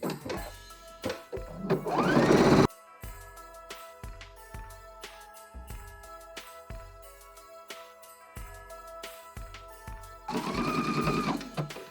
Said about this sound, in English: So I'm going to be using a straight stitch, and I'm going to be sewing 1/4 inch away from the edge.